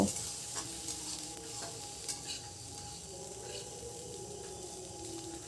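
Chopped onions frying for Bengali masala chicken produce a continuous soft sizzle with occasional stirring scrapes and clinks, fairly quiet and close, without talk.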